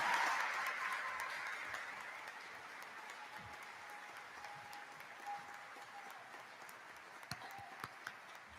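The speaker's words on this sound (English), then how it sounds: "Let's all give a round of applause once again for all these distinguished graduates and all of their families" Applause for graduates at an Iowa Wesleyan commencement ceremony starts full in a large hall, then fades over several seconds into scattered claps and faint room noise, sounding fairly distant.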